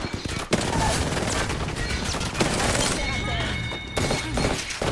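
Apex Legends match with rapid gunfire and missile shots, dense bursts and crashing impacts running almost continuously, while a voice talks over the action.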